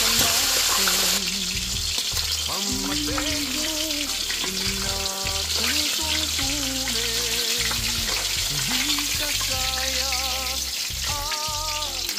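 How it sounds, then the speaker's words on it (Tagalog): Fish from an Asian market fries in hot oil, giving a steady close-up sizzle and crackle throughout, with faint background music and occasional clatter over it. "yung nabili nating isda sa Asian market, ipiprito natin"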